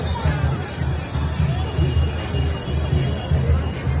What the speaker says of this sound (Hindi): और भीड़ देखिए लोगों की, कितनी भारी भीड़ है लोगों की यहाँ पर।